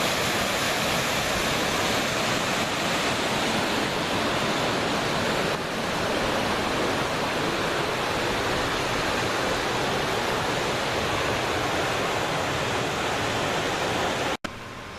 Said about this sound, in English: More waterfalls as the walk comes to an end.